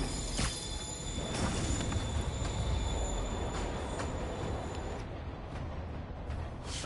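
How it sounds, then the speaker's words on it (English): A train in the Marvel's Spider-Man video game rumbles along steadily with a rolling, rattling roar and a faint high wheel squeal, continuous and fairly close throughout. "Train moving."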